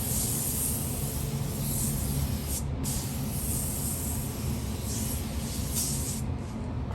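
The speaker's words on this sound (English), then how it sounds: "Let's spray the 261." A steady, close hiss of aerosol tire shine spray runs continuously with brief pauses, over a low background rumble.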